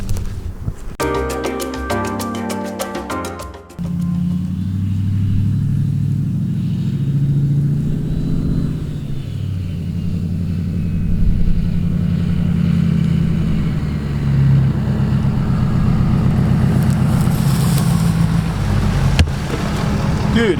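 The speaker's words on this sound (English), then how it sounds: "4-wheel drive launches in dirt with these wheels are sick" A boosted 650 hp Ford 6.7 Powerstroke diesel truck on 24x14 wheels launches through thick mud in four-wheel drive, its heavy low rumble holding steady and loud throughout with a brief high clatter at the start.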